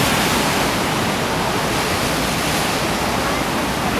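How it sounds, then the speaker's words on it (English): Big ocean waves crash on the central Oregon coast in a continuous, loud roar of surf and spray, a broad wash of noise close by with no break and no talk. "here we are looking at some really big waves crashing here on the shore"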